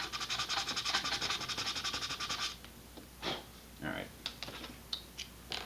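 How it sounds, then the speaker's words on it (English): Sandpaper rubbing the underside of an Estes Pro Series Nike Smoke model rocket, a close rhythmic scratching for about two and a half seconds, then scattered handling noises and a brief spoken word. "I'm going to do a little bit of sanding on the underside here."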